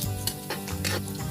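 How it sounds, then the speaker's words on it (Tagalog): Garlic frying in a hot pan while being stirred, giving a steady close sizzle with brief scraping stir strokes throughout. "Itong lutuon rang ahos."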